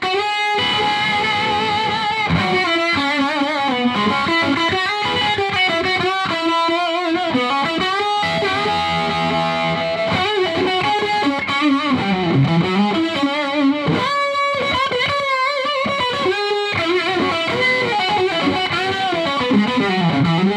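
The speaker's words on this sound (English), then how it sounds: "what you just heard is basically a classic univibe type of sound" A guitar sounds through a BBE Soul Vibe univibe-style effect pedal set to an extreme setting, with swirling, throbbing modulation and pulsing, wavering chords played continuously, loud and close.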